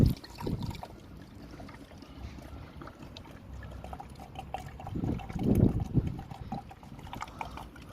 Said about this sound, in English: I'm going to pour a bottle of fluid straight in there.